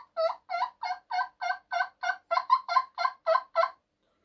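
A hunter imitating a turkey with a call, a rapid series of about a dozen sharp, evenly spaced clucking notes, close and loud, with no talking.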